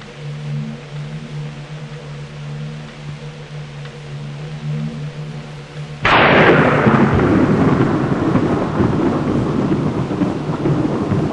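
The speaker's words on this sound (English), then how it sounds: "It's still a dark and stormy night." Thunderstorm on a dark stormy night in a 2006 family film: a low steady rumble with background hum gives way to a sudden loud thunder crack that rolls on as a broad, heavy roar of storm noise.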